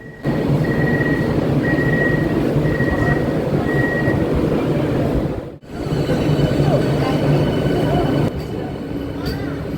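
An air-conditioned train waiting at a station rumbles steadily with a droning mechanical hum and a repeating beeping tone, a brief interruption, then the low rumble continues while voices murmur underneath.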